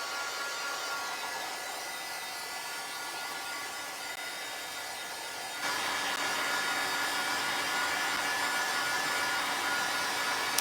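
A hair dryer blows a steady, loud whoosh over a textured craft piece, running continuously and growing a little louder partway through, with no voices over it.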